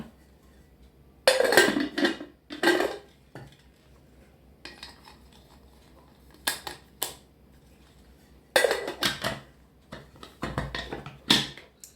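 Metal clanks and knocks of a pressure cooker lid being handled and closed in a home kitchen, in several loud bursts separated by quiet pauses, with no voices.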